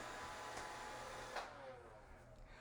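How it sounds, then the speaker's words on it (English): A robot vacuum cleaner runs in a room with a steady, fairly faint motor whir and airy hiss, and the upper hiss drops away about halfway through. "My robot vacuum cleaner came into the room with me."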